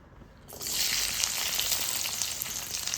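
Onions hit hot oil in a pan for fish chilli: quiet at first, then a sudden loud, steady sizzle that stays strong and close to the end.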